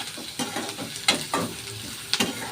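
Onions fry in oil with salt, a crackling sizzle broken by several sharp spatula scrapes and knocks against the pan at an uneven pace, close and fairly loud with no talking.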